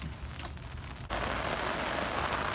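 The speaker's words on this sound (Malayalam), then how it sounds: "ഇപ്പോഴും മഴ തന്നെയാണ്" Steady monsoon rain patters on a surface, a dense hiss that grows louder and fuller partway through.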